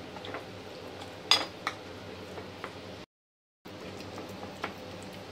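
Minced meat mixed with water chestnuts and egg in a bowl, with faint scattered clinks and taps of a utensil against the bowl over a quiet background, interrupted by a brief silence.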